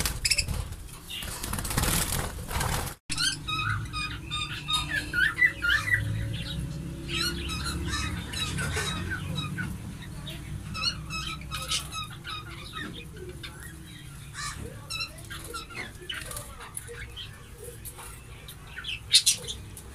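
Pet birds kept for breeding flutter and flap their wings while being fed, with clucking calls and scattered chirps over a busy rustling background, including a loud burst of wing noise near the start.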